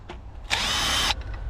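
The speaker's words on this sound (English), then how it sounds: "And then the drill." A power drill whirs steadily for about half a second while unscrewing an ignition coil under a car hood, close and loud, with faint handling noises before and after.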